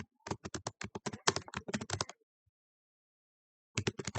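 A computer keyboard is typed on close by in a rapid, even run of clicking keystrokes. A pause of about two seconds follows, then a short new burst of typing.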